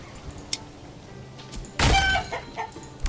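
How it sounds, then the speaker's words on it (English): Chickens clucking in the medieval village game Manor Lords: a short burst of clucking stands out against soft ambient game sounds, with a few faint clicks and thuds around it. "get some chickens going"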